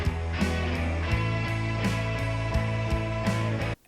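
Lead guitar phrase from a song, recorded during album sessions, plays as a rhythmic melodic line over a full band with regular accents, loud and close, stopping abruptly near the end.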